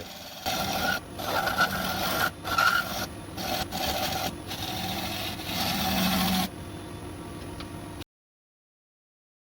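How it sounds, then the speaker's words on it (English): Steady abrasive rasping of sandpaper rubbing over a wooden bowl, continuous with brief pauses, close and fairly loud, then a quieter stretch before stopping. "So we just rattled through the sanding."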